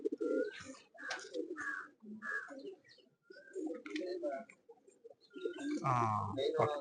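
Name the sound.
pigeon cooing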